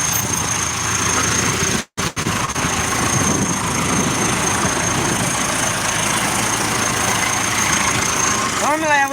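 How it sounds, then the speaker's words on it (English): A farm tractor's engine idling out of gear while seeding a cover crop, a steady loud low drone close by that briefly cuts out for a moment before resuming evenly. "Yep, the tractor's out of gear."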